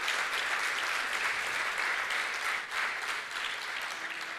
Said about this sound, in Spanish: Fuerte el aplauso al Cristo de la gloria.